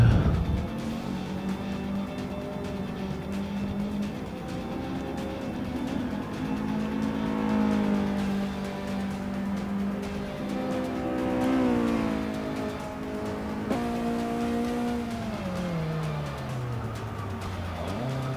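A 1966 Ford Lotus Cortina drives at Indianapolis Motor Speedway, its engine droning steadily and rising and falling in pitch through revs and gear changes, fairly close, with no voices.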